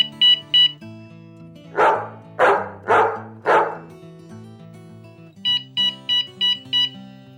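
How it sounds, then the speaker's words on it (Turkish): Short high electronic beeps from a Guntack beeper collar on a hunting dog, two at the start and five in a quick run at the end, with the dog barking four times in between. "10 saniyede bir beeper'ımız bu sesi çıkartıyor"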